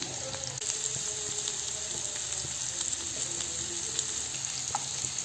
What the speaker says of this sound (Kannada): ಇದೆಲ್ಲ ಸ್ವಲ್ಪ ಫ್ರೈ ಮಾಡಬೇಕು. ಬ್ರೌನ್ ಕಲರ್ ಬರೋವರೆಗೂ ಸ್ವಲ್ಪ ಫ್ರೈ ಮಾಡ್ತೀನಿ.